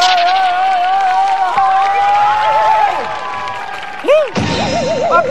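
Crowd applause for a singer's entrance in a Thai sitcom studio setting, a steady wash of clapping under sustained music and a warbling voice, fading as a new sound cuts in near the end.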